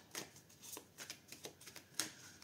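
A deck of tarot cards gets cut and shuffled, quick soft riffling bursts and card slaps in an irregular rhythm, quiet and close with no voices.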